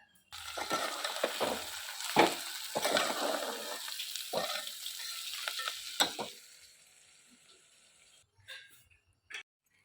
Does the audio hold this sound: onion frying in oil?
yes